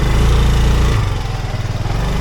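A Yamaha XMAX scooter engine runs in Trogir, Croatia, with a close, loud, buzzing drone that settles into a slightly uneven, pulsing idle partway through.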